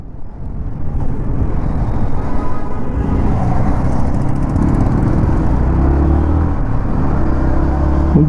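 A Yamaha XSR 155 motorcycle rides along with a continuous loud engine drone and road rumble, and the pitch shifts slightly as gears change.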